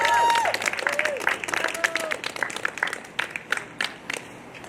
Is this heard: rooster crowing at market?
no